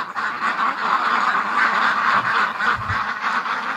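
Many ducks quack at once in a steady, clamorous chorus, close and loud, with no pauses.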